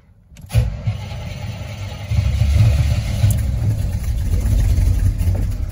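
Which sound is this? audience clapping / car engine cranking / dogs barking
car engine cranking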